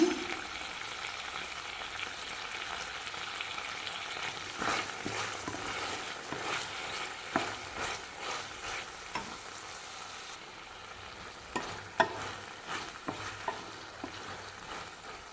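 Tomatoes sautéing in a pan for a greens chutney served with idli and dosa, a steady soft sizzle with scattered spoon scrapes and stirring clicks, no talk.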